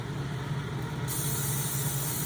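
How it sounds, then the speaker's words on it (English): Olive oil sprayed onto chicken cordon bleu from a spray bottle: a steady, close hiss of fine mist that brightens and continues for a couple of seconds over a low background hum. "we're gonna spray it with a little olive oil"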